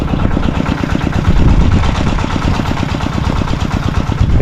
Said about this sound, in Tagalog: Makina na lang. Wala na yung langit-ngit.